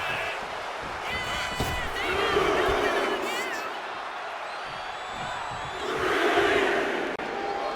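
Wrestling arena crowd in WWE 2K25, a broad roar of chanting and cheering that swells twice, with a commentator talking over it.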